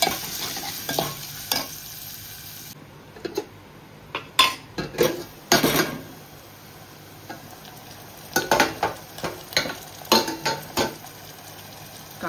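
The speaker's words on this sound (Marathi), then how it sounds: "आता कांदा टाकूया आपण। कांदा व्यवस्थित शिजवून देऊया आपण।" Onions frying in a pot on a home stove, a low sizzle under repeated sharp scrapes and clanks of a metal spoon stirring against the pan, irregular bursts with quiet gaps.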